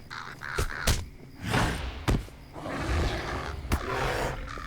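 Several harsh caws and croaks from crow-like birds in a fantasy online game, loud and close in irregular bursts, mixed with rushing growling combat effects and sharp hits.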